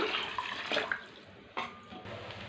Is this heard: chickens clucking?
no